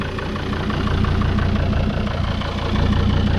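A 2003 Volvo XC90 engine idles close by with a steady, even low rumble and a faint mechanical ticking, heard alone without speech.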